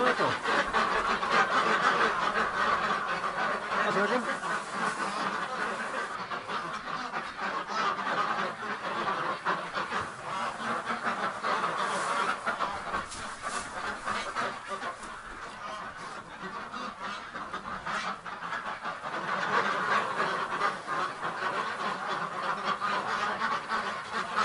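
A flock of ducks quacks continuously inside a duck barn, a dense, close chorus of overlapping calls in an enclosed space.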